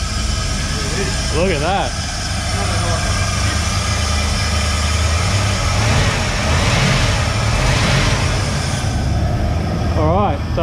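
A car engine runs at a loud, steady idle close by, with low rumble throughout and a couple of brief revs, while people talk over it.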